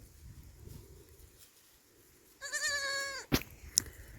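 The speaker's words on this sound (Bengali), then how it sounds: "সব দেশি ছাগলের বাচ্চা, কিন্তু কোনো বড় বড় ছাগলের বাচ্চা নয়, সব দেশি ছাগলের বাচ্চা।" Young native goat kids on a farm, one clear wavering bleat rising out of quiet rustling background, followed by a couple of short sharper cries.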